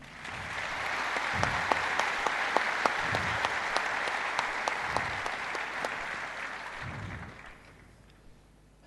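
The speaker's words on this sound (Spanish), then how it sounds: "Un fuerte aplauso, ¿no?" Audience at a panel talk applauding, a dense sustained burst of clapping with a few sharper claps standing out, fading away toward the end.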